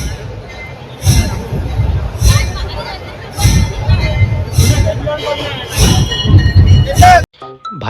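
A large, dense crowd at the Girgaon Shobhayatra procession in Mumbai fills the air with loud babble, with repeated sharp bursts rising over the steady noise and voices talking close by.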